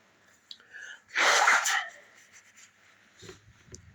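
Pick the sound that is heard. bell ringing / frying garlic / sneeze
sneeze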